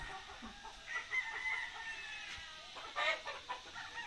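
Chickens and a rooster cluck and call softly at a small farm coop, with a few brief squawks rising above a low, quiet background.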